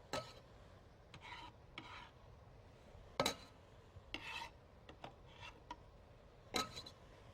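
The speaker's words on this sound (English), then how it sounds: "Once you get the garlic in there, just gotta get it around, kind of moving it." Garlic being stirred in a pan while cooking stuffed pepper soup, with soft scraping and rubbing strokes and occasional sharper clicks of utensil on metal, fairly quiet and steady, no talking.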